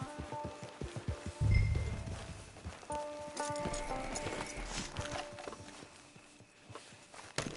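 Horse hooves clip-clop in Red Dead Redemption 2 Online, a steady walking rhythm of close hoof strikes with one heavier thump early on and faint background sound throughout.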